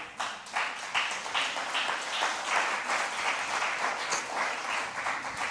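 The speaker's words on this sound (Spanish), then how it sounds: "Denle un aplauso a Dios." Church congregation applauding, a steady dense wash of clapping lasting several seconds at moderate loudness, with faint voices mixed in.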